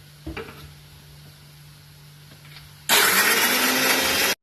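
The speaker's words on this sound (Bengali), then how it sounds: "ওই জন্য আমি একটু কাজু বাদামটা বেটে নিচ্ছি।" Dry cashew nuts ground in a kitchen mixer: after a quiet stretch with a faint hum and a couple of small knocks, the motor kicks in loud and close, a dense whirring grind that runs steadily for over a second before cutting off abruptly.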